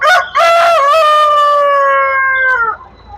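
A rooster at a Tuzla Aydınlı poultry and livestock market gives one long, loud, close crow, rising sharply and then holding a steady strained note before cutting off.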